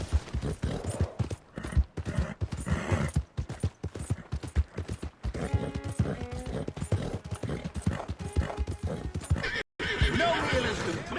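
Horse hooves clip-clop at a gallop in Red Dead Redemption 2, with a whinny breaking through near the end, loud and continuous under other game sounds.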